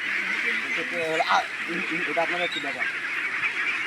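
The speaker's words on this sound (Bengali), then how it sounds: "দেখেন কতগুলো হাঁস আছে" A large flock of about 5,000 ducks on a duck farm quacks and honks in a dense, continuous chorus, with several nearer calls standing out, while someone speaks over the birds.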